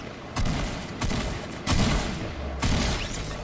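A shotgun fires four times in Fortnite, each blast loud and punchy and spaced about half a second to a second apart, over a steady background of game noise, with no talking.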